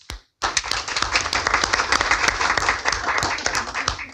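Applause breaks out at a council meeting after an oath of office, a small group clapping steadily with some individual claps standing out, following a brief near-silent pause.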